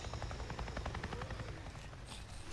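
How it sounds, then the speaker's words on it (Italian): A helicopter in the video game Days Gone flies overhead, a steady rapid rotor chop that stays constant and fairly faint for a couple of seconds. "C'è un elicottero."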